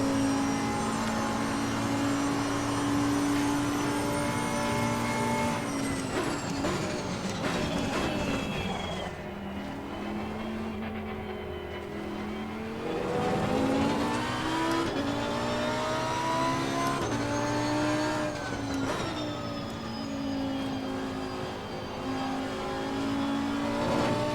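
A race car engine screams through gear changes in the racing game Assetto Corsa Competizione, loud and continuous, with rising revs, sharp upshifts, a dip under braking and renewed acceleration.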